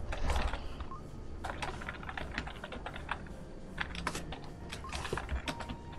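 Rapid computer keyboard typing runs throughout, with dense clicks and clatter of keys at steady close range and no talking, during a Spiral Knights gaming session.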